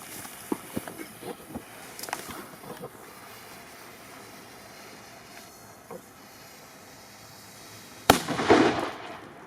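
A Master 2 firecracker set upright on the ground explodes in a single sharp, loud bang near the end, after a stretch of quiet outdoor background with small clicks.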